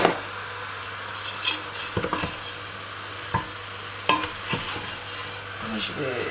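Garlic, onions and meat fry in a pan, a steady sizzle punctuated by several sharp scrapes and knocks of a utensil stirring against the pan.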